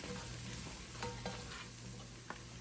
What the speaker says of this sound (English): we're going to give that a nice stir